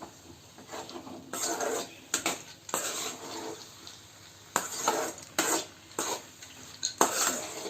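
Sprouted moth bean curry is stirred in a pot over a low gas flame, giving bursts of scraping and clattering spoon strokes in an irregular rhythm, separated by quieter pauses over a low sizzle.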